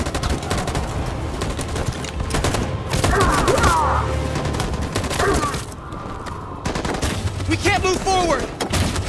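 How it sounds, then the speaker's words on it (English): Sustained battle din of machine gun fire and scattered gunshots in Detroit: Become Human, loud and continuous throughout, with shouted voices and whistling sounds in the mix. "That machine gun is taking down everything that moves!"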